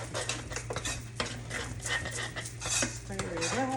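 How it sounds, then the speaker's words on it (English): A utensil stirs a plant-based breakfast seasoned with allspice and nutmeg in a pot, producing repeated close scrapes and clinks against the metal in an uneven rhythm over a low background hum. "Now I'm going to stir it."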